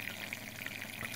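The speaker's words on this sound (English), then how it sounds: "You can twist the knob to slow the amount of bubbles down." An All Pond Solutions 200IF internal aquarium filter pumps air, giving a soft, continuous hiss of fizzing bubbles and churning water at close range with no talking.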